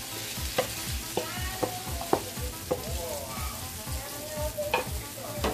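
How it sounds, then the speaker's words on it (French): Eggs fry in melted butter in a pan with a loud, steady sizzle, while a utensil scrapes and taps against the pan in a regular rhythm close by. "Quand y a là, beurre à fin fond, beurre à fin bien fond là, nous ajoutons les œufs avec avant."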